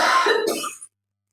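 A man in a classroom clears his throat in a short, rough burst that trails off into silence, close and fairly loud with no speech around it.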